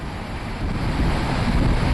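The swollen Chenab river rushes in flood below the Salal Dam in Jammu and Kashmir, a dense, steady roar of churning water with heavy wind buffeting across it and no break.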